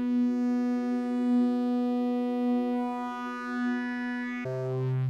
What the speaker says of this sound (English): this thing's got like a wave folding circuit, so you can like add harmonics